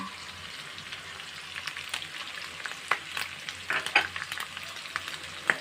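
Chicken pieces fry with chopped onion in a hot pan for chicken rolls, a loud continuous sizzle with crackling spits and a few sharp pops building toward the end.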